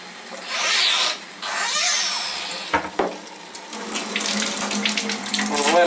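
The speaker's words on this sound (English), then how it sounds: "now what we'll do is we'll run some water through" Cold water running through an Enagic Kangen K8 water ionizer, a steady hissing stream of tap water into a sink, loud and close, with a brief clatter partway through.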